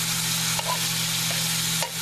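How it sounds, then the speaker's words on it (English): Liver sizzles steadily in a hot pan, a continuous bright crackling hiss with a faint low hum beneath and a couple of soft stirring clinks, no voices present. "If I can get it unstuck from the pan long enough to fry it without being burnt"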